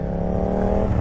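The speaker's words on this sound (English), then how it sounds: "But with an aftermarket exhaust on it, it sounds amazing." Yamaha MT-07 motorcycle with an Akrapovic titanium and carbon fiber aftermarket exhaust and ECU flash tune, a close, loud, steady engine rumble with a deep low-end throb held throughout one brief second.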